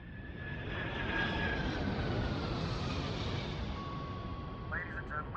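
Steady broadband drone of a passenger airliner's engines heard from inside the cabin on approach to Los Angeles Airport, loud and continuous with faint tonal chimes near the end.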